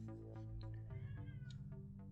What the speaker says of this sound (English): Oh, you're very loud. There's a kitty cat here.